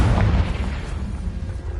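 Confringo, the explosive spell from Hogwarts Legacy, goes off as a loud, deep boom that rumbles and fades over under two seconds, close and with no talk.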